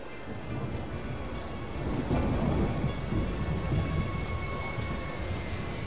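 Steady heavy rain with rolling thunder in The Witcher 3 video game, a continuous loud downpour that swells into a deeper rumble midway and holds there, with no talking.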